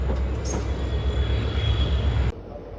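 A passenger train rolls through the yard into Ambala Cantt junction, a steady rumble of wheels on track with a thin metallic squeal overhead, heard from inside before the noise abruptly drops away.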